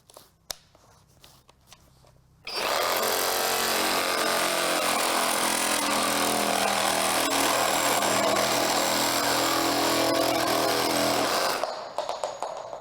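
Cordless reciprocating saw with a flexible blade cutting flush through a pipe sticking out of a wall, a loud steady buzzing cut running about nine seconds after a few faint handling clicks, then stopping.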